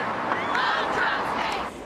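A crowd of protesters at a street demonstration after the 2016 election, heard as a steady roar of massed voices and distant shouting, fairly loud and continuous with no single speaker standing out.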